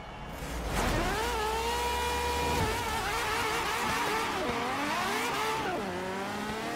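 A Ferrari 599XX race car engine in Forza revs and shifts continuously on a Hot Wheels half-pipe climb track, its loud, close whine rising and falling through the gears with brief tire noise.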